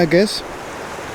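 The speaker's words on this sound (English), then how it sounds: "And below here is a big waterfall." A big waterfall below a Norwegian mountain spot in the Lyngen Alps gives off a steady, soft wash of rushing water. It continues alone after a brief spoken phrase at the start.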